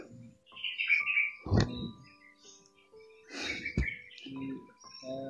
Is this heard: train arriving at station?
no